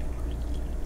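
Hot water being poured into a cup to make regular Horlicks, a short, steady, close-up pour with no talking.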